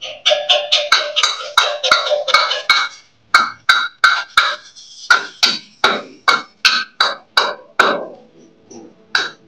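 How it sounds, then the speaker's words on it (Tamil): A hammer taps a metal plate fixed on clay tile roofing, giving a long run of sharp, ringing strikes in quick bursts, then evenly spaced blows with short pauses. "இந்த இடத்துல பிளேட்டை வச்சு ஃபர்ஸ்ட் சுத்தியில் தட்டிட்டு"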